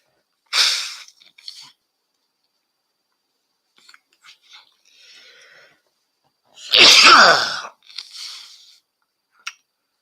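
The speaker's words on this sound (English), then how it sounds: "for me, sneezes usually come in doubles, even triples sometimes" Two sneezes a few seconds apart, the first short and sharp, the second louder and longer, with soft sniffs and breaths in between.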